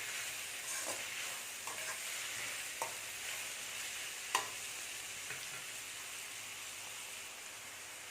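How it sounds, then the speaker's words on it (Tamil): Chicken frying in an iron kadai while being stirred, a steady close sizzle with scattered scraping clicks of the spoon against the metal, no voices. "டக்குன்னு சிக்கன் போட்ட உடனே கிளறிக்கிட்டே இருக்கணும்."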